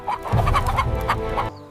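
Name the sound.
chickens clucking, rooster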